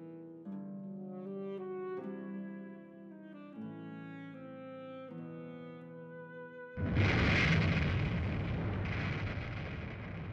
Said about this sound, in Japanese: 48年ぶりに浅間山が噴火した